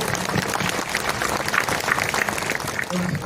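A congregation stands and applauds at an episcopal consecration ceremony in a church, with lively, continuous clapping from many hands mixed with faint crowd murmur.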